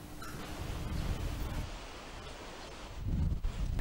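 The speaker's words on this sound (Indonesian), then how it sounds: "Seperti inilah kondisi angin kencang yang berhembus di kawasan pemukiman" Strong wind blows through a residential area of Kampung Sukalilah, Desa Sukamanah, in Pangalengan, a continuous roaring rush with gusty low buffeting against the microphone, heard without talk.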